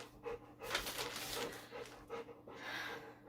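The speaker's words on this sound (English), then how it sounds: "And now you hear panting." Rapid, breathy dog panting in quick rhythmic bursts, close by, with a faint low hum underneath and no talking.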